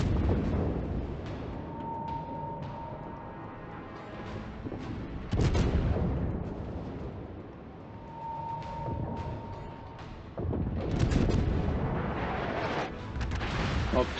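Heavy ship guns firing salvos at enemy destroyers in World of Warships, deep booming blasts heard as a few big bursts over a constant rumbling game background.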